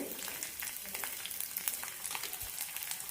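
Garlic cloves, shallots and chillies fry in a pan of oil for a drumstick-leaf chutney, making a continuous soft crackling sizzle with light stirring scrapes. No one speaks.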